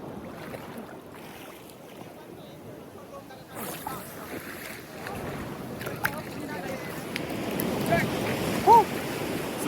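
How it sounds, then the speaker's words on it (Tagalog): Strong ocean waves wash and rumble at a beach in Australia, a faint, broad surging hiss with wind, while people talk and shout over it. "Lakas ng alon."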